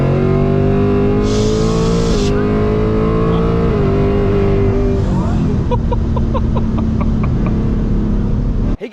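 Supercharged 800 hp ESS S650 Mustang GT pulling hard in third gear, its engine droning loud and steady with rising pitch, a brief shift dip, and faint clicks and whine near the end.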